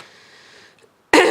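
A brief, close cough or throat-clearing burst from a person with a cough, abrupt and loud at the end after a faint hum and a moment of near-silence.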